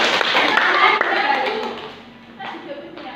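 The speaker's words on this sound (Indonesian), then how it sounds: "Berikan applause" A classroom of students claps together in a brief round of applause, a dense patter of hands that fades out before a few final claps, with a voice speaking over it.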